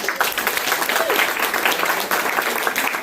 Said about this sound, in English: So give yourselves a round of applause, please.